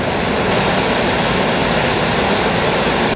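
A river rushes along a trail toward a lagoon in Queulat, Patagonia, a loud, unbroken roar of water that holds steady throughout, with no voices.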